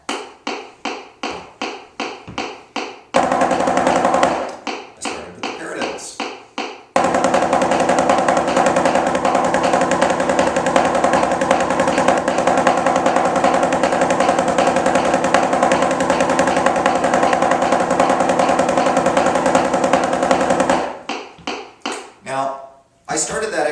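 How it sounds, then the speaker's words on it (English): Fast, dense drumming on a practice pad or snare works through a three-part Killer Exercise at 160 bpm. Spaced strokes at the start and end frame a long, unbroken stretch of rapid, even sticking, close and loud. "I should at least be able to do the three-part exercise at 160, which is what I'm trying now."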